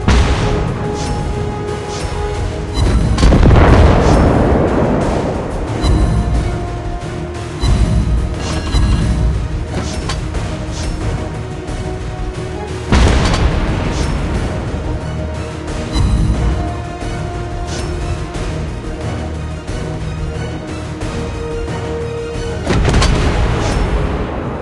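Cruiser gunfire in World of Warships Blitz: three loud, deep salvos spaced about ten seconds apart over a continuous game soundscape, each boom rolling out into a long rumble.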